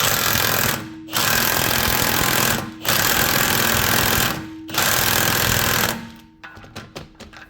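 A loud impact wrench hammers at the front axle nut of a 2019 Chevy Trax AWD in four long sustained bursts separated by brief pauses, followed by a few quick short rattling blips.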